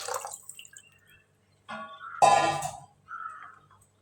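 Water is poured into a pot of Kerala-style shark curry, giving a short splashing gush after a few faint drips and clinks, then a softer trickle. The sound is close and fairly quiet, with no talking.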